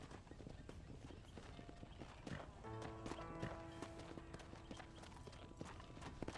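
Hooves of a horse clip-clopping in the video game Red Dead Redemption, steady close hoofbeats, with a brief whinny in the middle standing out over the faint, rhythmic steps.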